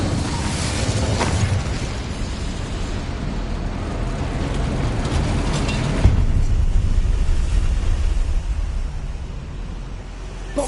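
A fire spell cast in Hogwarts Legacy gives a loud, continuous roaring rush with crackling bursts, swelling over several seconds and then easing, with no voices over it.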